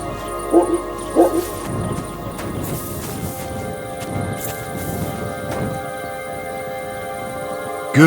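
Dog barks in Kingdom Come: Deliverance 2, two short yips near the start and a brief whimper at the end, over a busy medieval game soundscape with faint hoof clops and ambient murmur.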